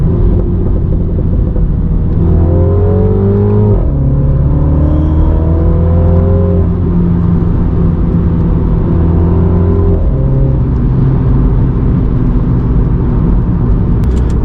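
Mini John Cooper Works F56 hatchback with stock exhaust, steady engine drone and road rumble heard from inside while driving, with rising rev sweeps through gear changes; no distinct pops stand out.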